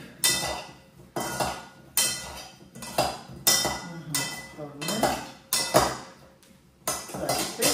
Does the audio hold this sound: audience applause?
no